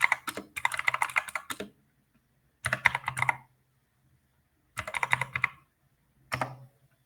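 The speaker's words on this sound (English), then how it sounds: "I'm going to type it into the chat." Someone types on a computer keyboard in close, quick bursts of clicky keystrokes separated by short pauses of silence.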